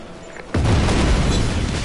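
An explosion in Just Cause 3: a sudden loud boom erupts after a quiet moment and rolls on as a dense, rumbling roar that holds for over a second, with no voices over it.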